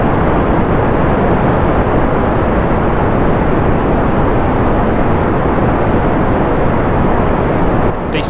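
A rocket lifting off in the space-flight game Kerbal Space Program, a dense, loud, steady engine roar with broadband rumble that holds unbroken for about eight seconds, easing slightly at the very end.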